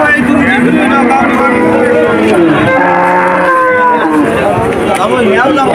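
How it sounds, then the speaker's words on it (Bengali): Cows mooing repeatedly amid a busy, noisy cattle market crowd, with people talking and bargaining throughout. "এখানে গাই গরু, গাই গরুর হাট।"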